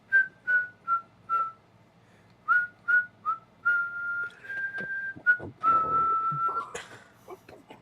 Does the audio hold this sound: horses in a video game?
no